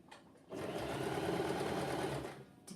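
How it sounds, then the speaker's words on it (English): A sewing machine runs slowly for about two seconds, stitching a curved seam on cloth hosen, a close, steady whirring hum that starts and stops abruptly. "I'm going to sew nice and slowly, easing it round"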